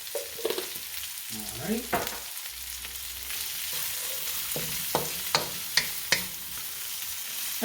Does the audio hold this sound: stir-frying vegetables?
yes